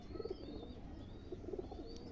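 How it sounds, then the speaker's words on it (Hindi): Salare pigeons cooing softly in a few short, low rounded bursts, with a steady background hum and no talk. "ये सलारे कबूतर हैं जी"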